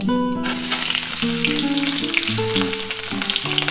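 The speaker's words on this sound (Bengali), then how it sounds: "এবার আমি দুটো বড় সাইজের পেঁয়াজ কুচি দিয়ে দেব" Chopped onions and whole cumin seeds frying in oil for a Bengali crab curry give a loud, steady, close sizzle with light crackling, and no one speaks.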